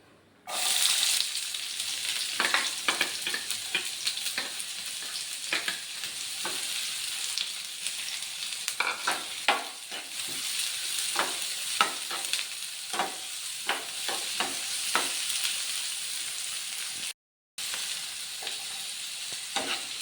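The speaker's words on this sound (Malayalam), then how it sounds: "ഇതിനകത്തേക്ക് നമുക്ക് ഉള്ളി ഇട്ട് കൊടുക്കാം." Onions fry in a hot pan with a continuous bright sizzle, broken by repeated scraping stirs throughout and a brief silent gap near the end.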